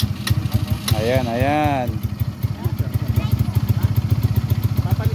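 A new 200cc ATV engine idles close by with a rapid, even putter and clatter, while a person speaks briefly over it near the start.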